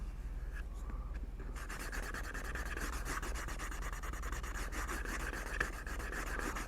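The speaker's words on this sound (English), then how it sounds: "I like to use the round slicker, and I will then slick this top until it's nice and smooth." A round slicker is rubbed back and forth over a leather top, making a quiet, continuous close friction sound with fast repeated rasping strokes after a brief pause.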